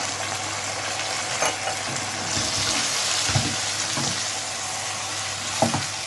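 Chicken pieces frying in a pan with spices, a steady loud sizzle with occasional stirring scrapes and bubbling, close up and with no talking.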